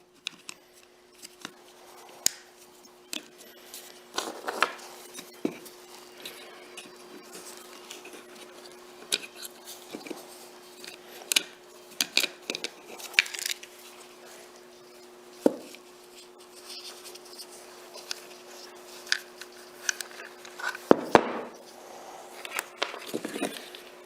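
Small metal parts of a Ruger Mk2 22/45 pistol click, tap and scrape as it is reassembled by hand, a run of close, faint, irregular mechanical clicks and knocks over a quiet room with a steady low hum.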